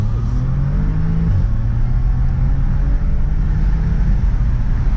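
An Audi S4 engine accelerating from inside the car, a steady loud rumble and whir with a rising pitch at the start, continuous for several seconds with no talk.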